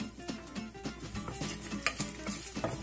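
Ginger slices sizzle in hot oil in a wok, a steady close crackle broken by quick stirring scrapes and clicks throughout.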